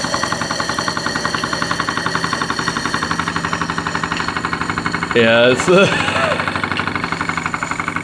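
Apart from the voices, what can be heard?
model steam engine running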